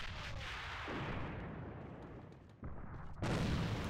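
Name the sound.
grenade explosion in video game AVA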